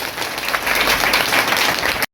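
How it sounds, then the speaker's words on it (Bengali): An audience at a debate festival in Nilphamari claps loudly and steadily for about two seconds, a dense close applause that cuts off abruptly at the end. "তাদের জন্য একটু জোরে জোরে করতালি"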